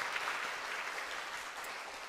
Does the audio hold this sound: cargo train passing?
no